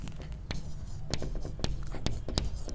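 Chalk tapping and scraping on a board during a thermodynamics lecture, irregular sharp clicks and short strokes scattered over a couple of seconds, with faint voice and room noise underneath.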